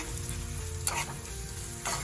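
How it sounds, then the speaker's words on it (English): Meat sizzles steadily in a hot pan, a constant crackling hiss with a couple of brief louder spatters as it is stirred. "transfer the meat into the pan and cook based on your liking"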